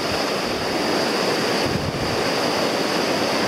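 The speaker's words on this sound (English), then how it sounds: "Just beautiful water. Beautiful, clean" Clean trout water of the Logan River rushes steadily, a broad, even roar of flowing water mixed with some wind noise and no voices.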